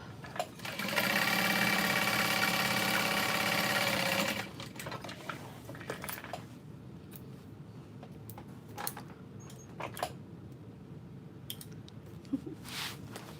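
A sewing machine stitching fabric close up, a fast steady mechanical whir for about four seconds, then stopping, followed by scattered soft clicks and handling noises of the fabric.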